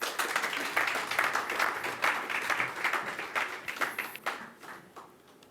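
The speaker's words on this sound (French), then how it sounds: "On applaudit Marie." A live audience at an evening mentalism and paranormal show in Montpellier breaks into steady applause, a dense wash of clapping that fades slightly toward the end, heard alone without talk.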